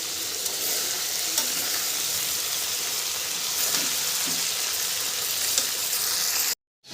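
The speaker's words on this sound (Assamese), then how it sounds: "ভাজি আছো মুৰ্গীখিনি" Chicken frying in a pan with peas and potatoes, a steady close sizzle with occasional stirring scrapes, continuous and fairly loud, cutting off abruptly at the end.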